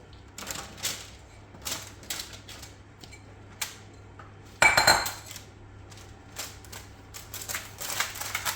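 Mushrooms being set out onto a metal oven tray in a home kitchen, giving a string of light clinks and taps with one louder clatter midway, close by with no talking.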